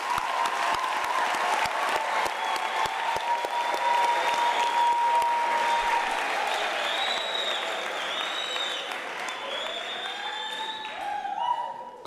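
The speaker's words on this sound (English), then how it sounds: "applause." Sustained, steady applause from a large audience at a university graduation ceremony, continuous and full throughout, with some high voices and ululation rising over it toward the end.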